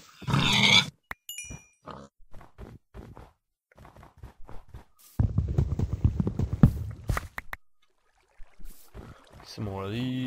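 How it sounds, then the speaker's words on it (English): Pigs grunt in the Minecraft video game in short bursts alongside game footsteps and hits, with someone talking intermittently over the sounds. "I'm gonna kill a couple pigs over here."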